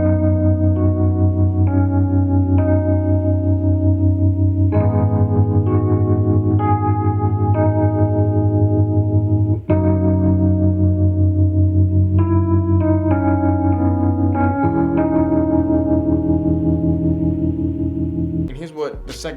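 Lofi guitar beat in its second chorus, sustained Rhodes piano chords layered with guitar and a steady groove, chords changing every few seconds and ending with a brief glitchy tail; no talking.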